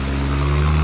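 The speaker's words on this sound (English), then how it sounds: "Come on, rev on out of here. I'm revving it." A motorcycle chopper engine runs loud and close at a steady, low, throbbing idle, with a strong humming drone through the whole brief moment and no talking.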